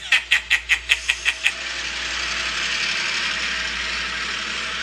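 A huge grabber machine above a small engine in a cartoon smelter shed clicks in a quick ratchet-like series of eight sharp ticks, then gives way to a steady mechanical whirring hum.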